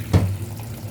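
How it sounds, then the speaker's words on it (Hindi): Water pours briefly into a pot of washed white beans, a short splashing rush at the start that settles into a soft trickle. "और पानी भर देंगे"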